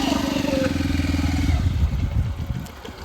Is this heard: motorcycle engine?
yes